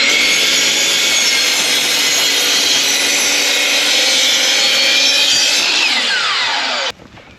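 A 12-inch sliding miter saw cuts through wood for a closet organizer, its loud, high whining blade roaring continuously at close range before winding down and stopping abruptly near the end.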